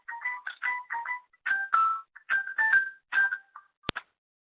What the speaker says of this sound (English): I was hearing a ringtone